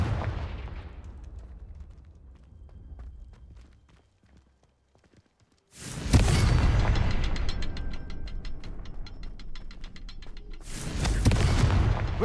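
Confringo blasting spell from the video game Hogwarts Legacy, sounding as two loud, abrupt bursts with booming impacts and crackling tails. The second blast comes several seconds after the first and follows quieter rumbling game ambience.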